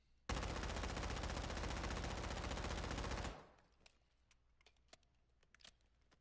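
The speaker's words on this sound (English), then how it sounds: "I can fire off a round or two and then see what the reload speed is like" A weapon in the DMZ game mode of a shooter fires a rapid sustained burst of about three seconds, loud and dense, then stops abruptly and gives way to quiet reload clicks and metallic handling noises.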